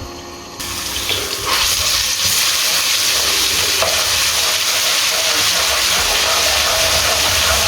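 A spoonful of ginger garlic paste hits hot oil in a pan and is stirred, giving a loud, steady sizzle with scraping stirring strokes, continuous and close, with no talking.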